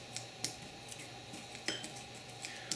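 A calamari breading mixture being stirred in a bowl: repeated light clinks and scrapes of a utensil against the dish, a steady rhythmic series of close, moderately quiet taps.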